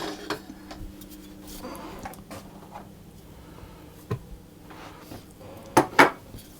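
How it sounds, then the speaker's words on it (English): Mashed potato is worked into flour in a bowl for burger buns: soft scraping and mixing with scattered light clicks of a utensil against the bowl, and two sharper knocks near the end. "mix that around until the potato breaks up into the flour."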